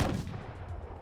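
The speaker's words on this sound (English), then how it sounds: "The sound of gunfire." Gunfire in a video game, heard as one short, loud blast at the start that decays into a rumbling tail.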